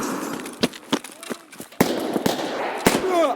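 Gunfire in Escape from Tarkov, a string of sharp close shots and bursts at irregular intervals, with a player's voice reacting over them.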